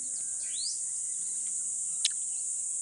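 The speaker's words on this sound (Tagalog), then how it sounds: "Ibon lang maririnig mo." A constant high insect drone fills the quiet Bohol countryside, with a few faint bird chirps and a short upward whistle from a distance.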